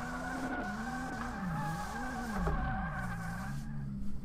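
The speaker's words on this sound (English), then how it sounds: "Yeah, these tires are just getting smoked." Tires on a Mazda RX-8 squeal continuously while drifting in the video game DRIFT21, a wavering high screech layered over a steady revving engine drone, sustained and loud throughout without talk.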